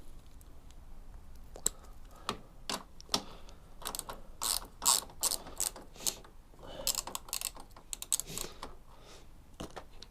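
Hand ratchet tightening the earth connection on a Royal Alloy scooter during fitting of an extra fuse box, a series of short close clicking bursts in uneven runs with small mechanical rattles between them.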